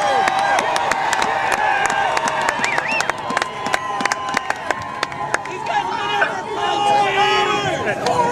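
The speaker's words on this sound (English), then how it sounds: "let's have one other round of applause for that real quick" A crowd gathered to celebrate the Broncos claps and cheers in a steady round of applause with sharp individual claps up front, while someone talks over the noise.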